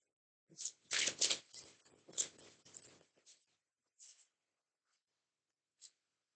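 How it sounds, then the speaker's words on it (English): Tarot cards are shuffled close by in quick riffling bursts, followed by a few soft isolated card taps as the handling slows. "Let's give them one more shuffle."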